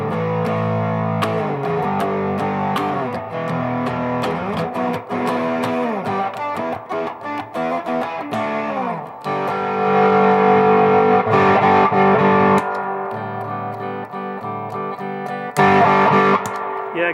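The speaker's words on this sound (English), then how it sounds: "It's just got volume and it's just distortion." An electric guitar runs through a simple distortion pedal with only a volume control, playing gritty, sustained chords and riffs, loud and close, with a jump in level partway through and no talking over the playing.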